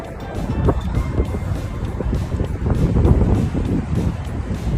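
Strong gusty wind buffets the microphone outdoors on a hot day in a village, in loud low rumbles that swell and fade, with no voices.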